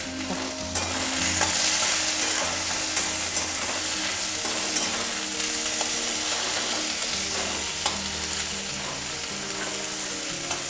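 Chopped tomato with a pinch of salt fries in a pan for a diabetic-friendly muri ghonto, giving a continuous close sizzle broken by the frequent scrape and clack of a stirring spoon.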